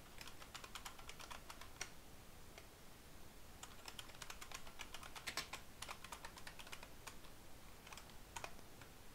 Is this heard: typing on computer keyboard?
yes